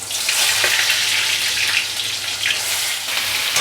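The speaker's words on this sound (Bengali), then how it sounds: "এবার আমি একটু বেগুনটাকে সাঁতলে নেব।" Eggplant pieces fry steadily in hot oil in a pan, giving a dense, even sizzle that holds at a constant level with no one talking.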